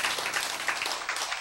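An audience at a lecture applauds, producing dense, steady clapping throughout the short moment with no pauses.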